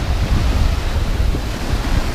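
Pacific Ocean surf at Venice Beach in Los Angeles, a steady close wash of breaking waves with wind rumbling across the microphone throughout.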